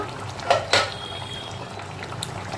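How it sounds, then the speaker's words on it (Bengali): The lid comes off a pot of simmering dhokar dalna, a lentil-cake curry, with two close metallic clanks, followed by a soft bubbling hiss from the pot. "ঢাকনাটা এবার খুলে নেব"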